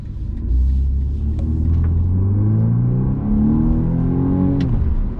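A 2020 BMW M235i Gran Coupe accelerates in comfort mode, heard from inside the car. The engine drone climbs steadily in pitch through the gears and stays loud and continuous.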